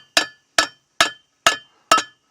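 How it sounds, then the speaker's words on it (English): A hammer taps bent metal against a second backing hammer while reshaping a part on a 1976 Starcraft boat: five sharp ringing strikes at an even, unhurried pace, close and loud, with silence between them. "I'm using the other hammer to do some massaging."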